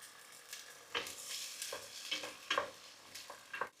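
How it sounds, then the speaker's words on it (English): Falangina white wine deglazing a pan of browned meat with celery and carrot for Genovese sauce: faint, close sizzling that swells in short bursts as the pan is stirred, with no talking. "Now I deglaze with white wine"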